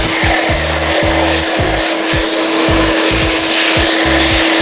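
A car blower runs loud and continuously, drying a black C8 Corvette inside a garage. Its roaring airflow is joined by a steady hum and a rhythmic pulsing or rubbing undertone.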